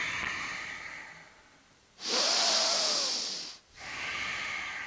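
During a yoga stretch, a person lets out one long, loud breathy exhale lasting about a second and a half, close to the microphone, with quieter airy breathing before and after.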